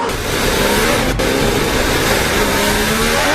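Formula 1 race car on a treacherously wet track, rear wheels spinning, its engine giving a loud, steady high-pitched drone with a rising rev tone and one brief dip in the middle, no voices.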